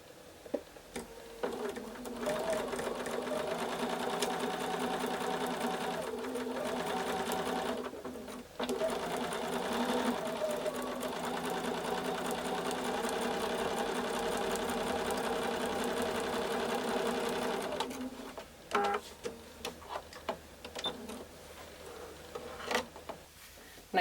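A sewing machine runs steadily while stitching quilt block seams for a plus quilt block, with a near, continuous whir that breaks off briefly mid-run before resuming. It stops cleanly, and a few small handling clicks follow.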